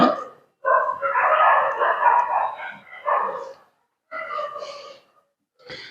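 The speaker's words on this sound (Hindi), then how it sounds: "भैया ये कुत्ते कहां से आ गए बेटा?" Dogs bark outside a classroom during a chemistry lesson, giving loud, close, rough yelps and barks in several uneven bursts separated by brief pauses.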